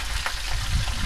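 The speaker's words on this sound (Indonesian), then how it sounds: "Sesi menggoreng ikan baung." A close, steady crackling sizzle of baung catfish frying in hot oil, with soft pops and a low rumble underneath.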